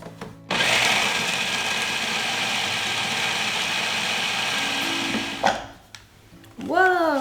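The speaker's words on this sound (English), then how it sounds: "All we have to do is puree this until it's nice and smooth" A blender purees beet sauce with avocado oil and red wine vinegar, giving a loud, steady whirring roar for about five seconds. It then cuts off, and a voice and a brief rising whine follow.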